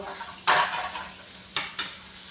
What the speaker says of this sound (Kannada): ಆಲ್ಮೋಸ್ಟ್ ಪಾತ್ರೆ ತೊಳೆದಾಯ್ತು ನೋಡಿ